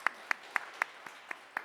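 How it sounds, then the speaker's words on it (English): Sparse hand claps from a small audience at a security meetup, about seven distinct claps spaced evenly across a short moment, fairly faint and thin rather than a full ovation. "Yes, round of applause for that."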